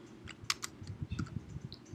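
A computer keyboard is typed on in a short burst of quick, light key clicks, close and fairly quiet.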